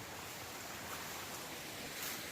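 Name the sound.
small waterfall stream flowing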